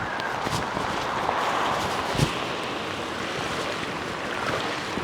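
Water rushing steadily through a French drain during flooding, a continuous broadband wash with no pauses, outdoors with some wind.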